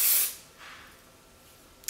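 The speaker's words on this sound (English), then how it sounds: "I'm going to take a little bit of hairspray." Hairspray from an aerosol can sprays onto hair in one short, close hissing burst at the start. Quiet room tone follows, with a tiny click near the end.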